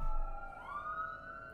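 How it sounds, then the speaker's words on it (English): A police-type siren wails outside, faint and distant, its tone rising in a single sweep over a quiet background. "And apparently there's sirens going off outside now,"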